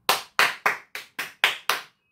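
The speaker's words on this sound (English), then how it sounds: "I'm just going to be clapping my hands" Seven sharp, evenly spaced single hand claps by one person, close and loud in a quiet room, each ringing briefly before the next.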